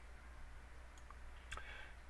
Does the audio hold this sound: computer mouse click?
yes